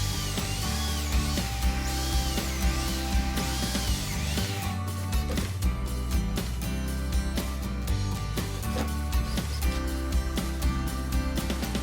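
A power drill bores into hickory wood, whirring loudly and continuously with bursts of rising and falling motor pitch and grinding, steady throughout with no talk.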